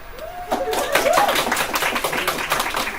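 A high school AP Psych class audience clapping at a student awards ceremony, a short burst of scattered applause from a room of people, with a little voice and laughter mixed in.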